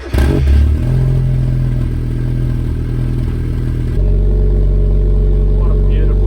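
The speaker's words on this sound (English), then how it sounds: "And now for a lovely cold start." A Mazda Miata's engine cold-starts with a sharp cranking burst, then settles into a loud, rough, steady idle that drops to a deeper, heavier drone partway through.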